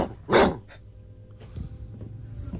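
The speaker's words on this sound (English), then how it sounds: "Did someone in the unit get a new dog?" A dog barks once in the middle of the night inside an apartment unit, loud and close, then a low steady room hum with a few faint knocks follows.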